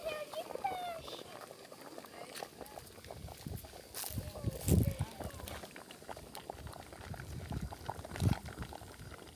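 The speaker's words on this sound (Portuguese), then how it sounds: "Vou deixar cozinhar porque ela tinha que ficar bem molinha." A pot of green banana feijoada simmers quietly, giving a faint bubbling bed with scattered soft knocks and clatter nearby.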